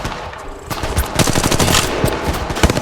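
Apex Legends gunfire, rapid automatic bursts of loud close shots crackling in quick succession, with denser firing through the second half and no speech over it.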